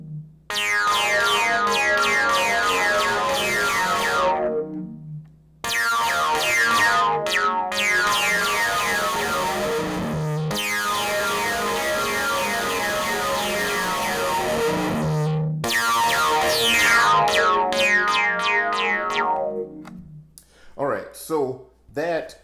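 Yamaha Reface CS synthesizer played through its distortion effect, gritty sustained chords in three long phrases separated by short breaks, ending with a few quick sweeping notes.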